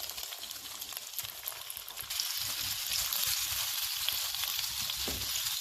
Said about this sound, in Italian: Mettiamo in padella i calamari.